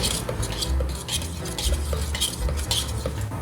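Boba pearls are stirred steadily in syrup with a utensil, giving close, continuous scraping and clinking strokes over a low simmering rumble.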